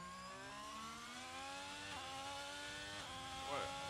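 High-revving racing car engine in a Singapore Grand Prix sim race, a steady sustained whine with shifting pitch as the car brakes and accelerates, continuous and fairly loud throughout.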